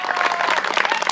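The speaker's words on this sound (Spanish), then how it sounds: "Fuerte el aplauso para Alejandro." An audience claps and applauds for Alejandro, a dense, loud burst of many hands at a gathering, lasting about a second.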